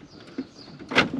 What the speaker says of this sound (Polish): otwieram drzwi